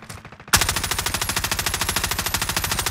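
Automatic gunfire in Call of Duty: Warzone, a loud, rapid, evenly spaced burst that opens abruptly after a short quieter moment and keeps rattling to the end.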